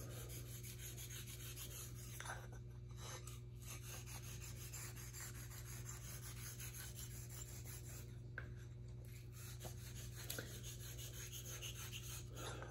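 Steady rubbing strokes of a straight razor bevel being honed on a convex hone stone, a soft continuous rasp with faint rhythmic scraping, close and quiet over a constant background hum.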